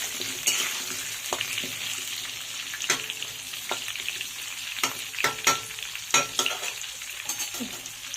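Singi or shol fish fries in a pan while being stirred, giving a low crackling sizzle broken by sharp scraping and clacking strokes at an irregular pace, close by and with no voices.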